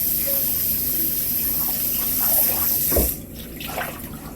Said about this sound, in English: first of all, I have to make sure I wash the lettuce